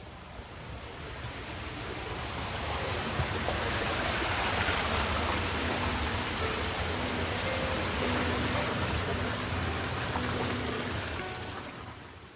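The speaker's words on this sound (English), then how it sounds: "This is the sound of a long rectangular tank called a raceway." Water rushes steadily through a long rectangular raceway tank at an Alaskan fish hatchery, a dense, even roar that swells slightly and holds without a break.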